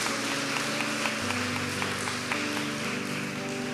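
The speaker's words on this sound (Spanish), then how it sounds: "Denle un aplauso al bien." Dense, steady crowd applause fills the clip, with sustained musical tones playing underneath throughout.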